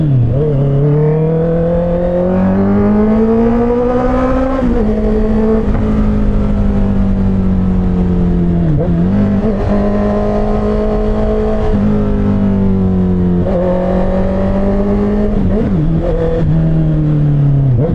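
A Honda CBR650R motorcycle engine revs hard during a test ride, the loud, smooth wail climbing through the gears with repeated surges and dips and shifts, heard up close with no talking.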